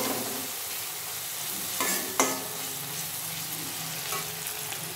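Onions frying in a pan over lowered heat, a steady close sizzle broken by a couple of sharp spatula knocks and stirring scrapes, with no talking.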